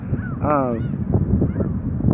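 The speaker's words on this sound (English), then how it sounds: "it's just seagulls and Canadian geese here" Canada geese honk loudly nearby in Windsor, a few harsh calls over outdoor background noise with a faint voice underneath, seagulls also present.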